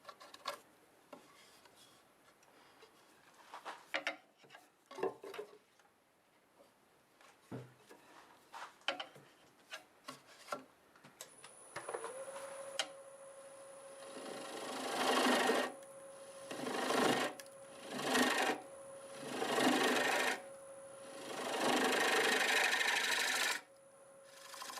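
A wood lathe cuts the bottom of a turned juniper wood piece, starting with scattered scraping ticks and then building into loud, sustained rasping passes of the tool with a steady motor tone underneath.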